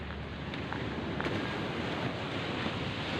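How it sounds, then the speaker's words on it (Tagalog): Steady broadband rushing of wind buffeting the microphone outdoors at sea, with a low roar underneath resembling surf. "Hangin."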